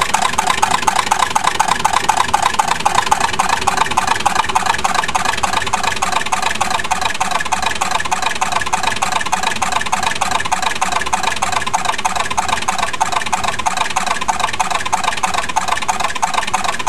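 A steamboat's steam engine runs loud and steady, a fast, even pulsing chug that continues unbroken with no voices.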